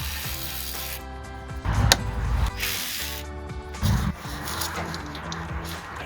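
Ratchet working 8mm bolts on the front driveshaft flange at the transfer case of a Jeep Wrangler, bursts of rapid metallic clicking with grinding rubs in between, close and fairly loud.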